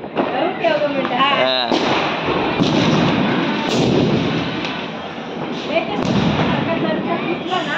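Diwali firecrackers bursting nearby in loud, repeated thuds and cracks, with a steady crackling background and voices talking over the blasts.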